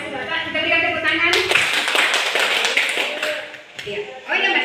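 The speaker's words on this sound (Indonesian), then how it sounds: "Kita berikan tepuk tangan." A crowd at a school event breaks into loud applause, dense clapping filling the scene for several seconds while voices carry on underneath.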